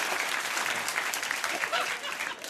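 A late-night talk show studio audience applauds steadily and loudly, with a voice speaking over the clapping.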